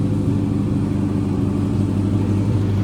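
A 1979 Ford Escort RS2000 with a Burton cam wheel and Type 9 five-speed runs steadily at idle, giving an even, close, continuous low mechanical hum with no talking over it.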